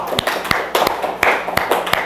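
A church congregation at a Sunday service claps in welcome, a short burst of scattered, uneven handclaps from a small group indoors.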